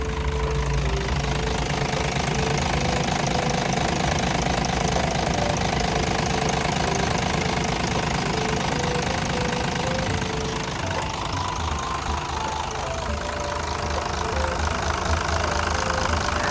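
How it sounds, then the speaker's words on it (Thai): The six-cylinder turbo diesel engine of a 50-ton Tadano TR-500M-3 crane truck runs steadily up close, loud and unbroken, with a rough knocking chug throughout and no one speaking. "เสียงเครื่องการทำงานของเครื่องยนต์ของเขาเนี่ย ก็ทำงานได้น ิ่มแน่นดีปกติเลย"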